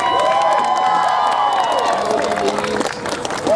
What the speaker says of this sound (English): Go ahead and give a round of applause.